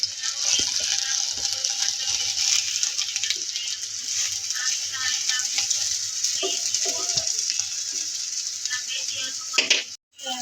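Steady, loud sizzling of rotis frying in a pan fills the space, with occasional scraping and clinking from turning them and a sudden cut-off near the end; a voice is faintly present.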